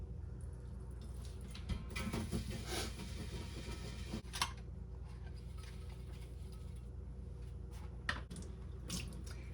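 Hot water runs steadily from a kitchen tap for rinsing dishes and milking equipment, a continuous close hiss with occasional clinks and knocks of items being handled, and no talking.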